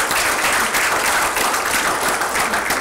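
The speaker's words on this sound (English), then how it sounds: "Let's give them a round of applause." Steady applause from an audience thanking speakers at an online session during the Blue Ocean Film Festival, a dense, even wash of clapping that continues loudly for about three seconds.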